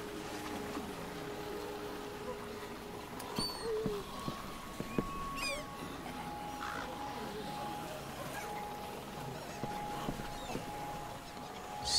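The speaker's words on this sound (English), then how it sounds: "So many crows." Crows caw faintly and sporadically in a quiet, run-down outdoor setting in The Walking Dead: Michonne game, with low ambient hum and voices talking.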